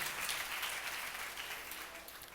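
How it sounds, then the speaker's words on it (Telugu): A Sunday church congregation claps continuously, a dense, steady wash of many hands, somewhat distant and fairly soft, with no clear speech. "ఇప్పుడు గట్టిగా చప్పట్లు కొట్టండి"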